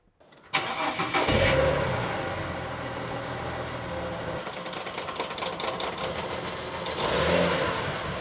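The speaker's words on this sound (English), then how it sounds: "Bit of a knocking sound there, what's that?" A straight Barra car engine turns over and catches, then idles and revs with a steady mechanical knock running through it, close and loud with no talk.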